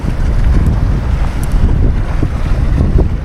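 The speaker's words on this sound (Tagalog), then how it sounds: "Medyo mahangin lang mga master." Strong wind buffeting the microphone at a fishing spot in a continuous rushing roar, with water sloshing beneath it.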